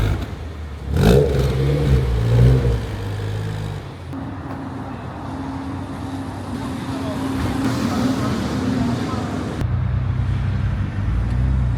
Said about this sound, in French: Là-bas normalement il y a pas mal de voitures.